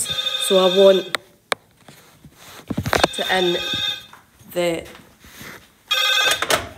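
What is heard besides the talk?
telephone ringing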